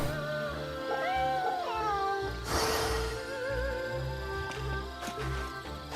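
Cats meow repeatedly as player characters pet them in a video game, a series of clear, close mews over soft game music with a brief burst of noise midway.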